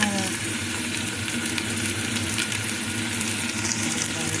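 Beef sautéing in a hot pan for Filipino calderita, a steady broadband sizzle holding evenly throughout at close range with no talk over it.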